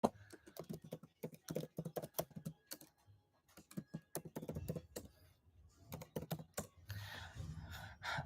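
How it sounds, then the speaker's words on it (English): Typing on a computer keyboard, a close, steady patter of key clicks in irregular bursts with short pauses, ending in a denser flurry of strokes. "I'm typing it."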